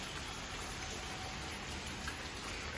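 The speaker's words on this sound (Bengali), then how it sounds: "বৃষ্টি শুরু হয়ে গেল আবার" Rain falling steadily outdoors as a faint, even hiss of drops on surfaces, continuous and soft with no voices.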